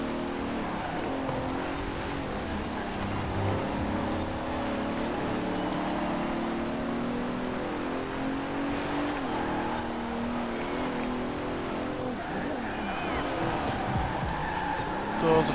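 The most powerful Bentley ever made, a heavy all-wheel-drive car in Forza Horizon 4, with its engine droning and revving steadily under continuous road noise throughout, and a voice faintly audible.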